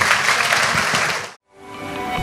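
Audience applause in a church gathering for a Mother's Day panel, a dense, loud wash of clapping that cuts off abruptly partway, then quieter scattered clapping returns.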